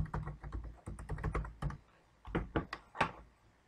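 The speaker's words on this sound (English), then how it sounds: "type in their email address there as well" Quick bursts of keystrokes on a computer keyboard as an email address is entered, close and crisp, with a short pause midway before a final few taps.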